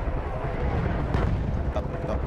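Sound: artillery fire explosions in video game Battlefield 1

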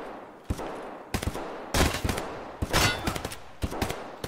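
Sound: gunfire from enemy shooting at players in a video game

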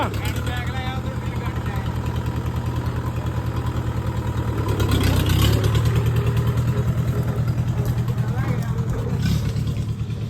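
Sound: tractor engine running after servicing

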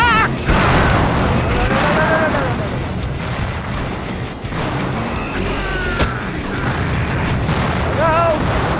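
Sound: rockets exploding in video game Slayers X

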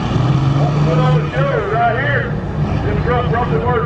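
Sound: International semi truck engine revving at truck pull

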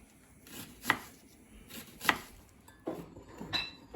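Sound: onion being chopped into half rings

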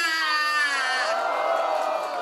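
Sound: audience applause and screaming

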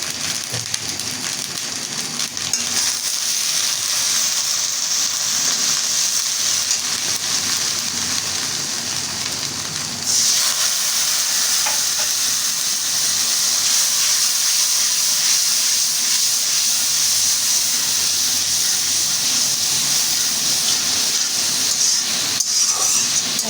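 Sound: frying spice paste in a pan

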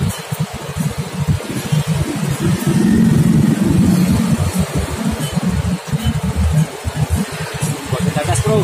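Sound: Yamaha motorcycle engine revving

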